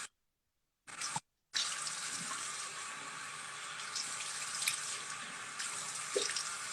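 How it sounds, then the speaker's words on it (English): Running water at a salon sink rinses a client's face before a skin peel: a steady, close stream that starts after a couple of short silent gaps and carries on alone. "just rinsing her face right now"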